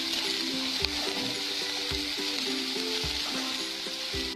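Onions fry with turmeric and salt in a pan, a constant soft sizzle with occasional scrapes and knocks as a spoon stirs them.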